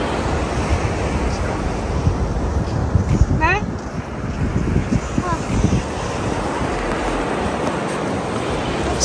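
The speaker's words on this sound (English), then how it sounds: "So you can imagine this beautiful sky with the sound of the sea. The waves and the windy, it's so amazing" Sea waves wash onto a beach in Muping, Yantai, Shandong, with a steady broadband surf roar and gusting wind buffeting the microphone throughout, loud and close, while a person speaks briefly over it.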